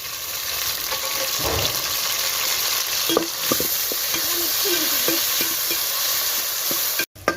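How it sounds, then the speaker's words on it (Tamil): Tomatoes sautéing for a Sangara fish curry in a pan over a wood fire, giving a continuous close sizzle with intermittent stirring scrapes and a brief clatter near the end. "வதக்கிக்கலாம் அடுத்த தக்காளியை சேர்த்துக்கலாம்"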